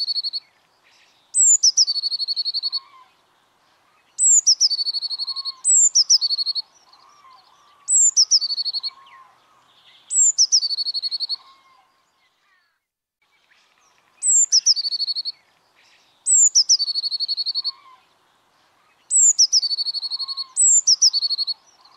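Great tits chirping around a nut feeder in winter, with repeated bursts of bright, high chirps and short calls in clear groups separated by brief pauses, close and fairly loud.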